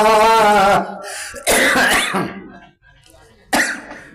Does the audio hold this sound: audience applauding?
no